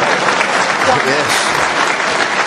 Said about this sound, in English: Big cheer for Stuart.